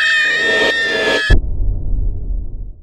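A cat gives a loud, drawn-out meow that cuts off sharply, followed by a low rumbling background.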